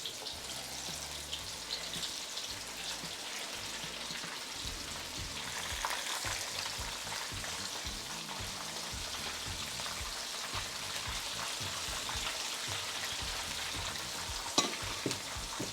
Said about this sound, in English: right in the fryer. No coating, no batter, no nothing. Not air fryer, in the oil.